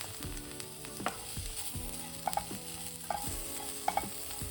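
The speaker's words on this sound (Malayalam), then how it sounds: "എന്നിട്ട് നന്നായിട്ടൊന്ന് മിക്സ് ചെയ്യാം." Kanthari beef fry, a spicy Kerala dish with a few drops of lemon juice, is mixed in a hot pan. Spatula scrapes repeat steadily over a constant close sizzle, with no voices.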